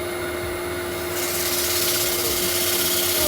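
A dust extractor runs steadily during woodturning on a bowl with a rough side, its broadband whoosh swelling louder partway through and holding as an even, close roar with no talk.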